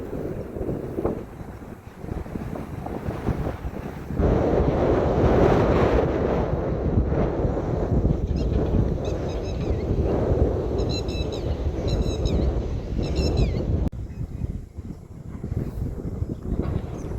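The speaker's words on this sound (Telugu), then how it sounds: "గాలి ఎక్కువ అయిపోయిందిగా" Strong wind buffeting the microphone at a waterside spot during snakehead fishing, a loud continuous roar that swells after a few seconds, with faint chirping calls in the background and no talking.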